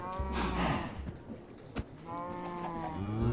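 Cows mooing in the video game Minecraft: two long, loud, drawn-out moos with strong harmonics, one at the start and one near the end, separated by a brief quieter stretch of game noise.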